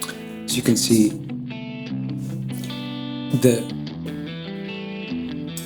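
Clean electric guitar notes ring out with bright, sustained chords and a few sharper picked accents, fairly close and clear.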